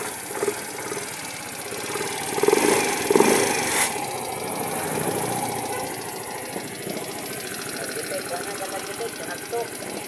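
A Yamaha Mio i125 scooter idles with a steady mid-pitched hum and a faint knocking rattle, while people talk over it nearby.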